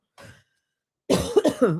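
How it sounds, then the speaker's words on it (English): A person coughs close to the microphone: a faint short exhale first, then after a pause a loud burst of several harsh, throaty coughs in quick succession. "I'm going to cough. I need to cough."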